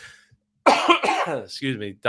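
A few harsh, close coughs in quick succession, followed by a short throat-clearing sound.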